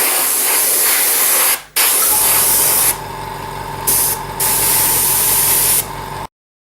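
Aerosol primer sprayed in long, loud, close hissing bursts, with a brief pause early on and several short breaks between passes, alone with no talking.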